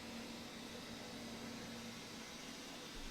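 A vacuum cleaner runs steadily in the room, a constant broad whooshing roar with a faint hum, unbroken throughout and with no one speaking.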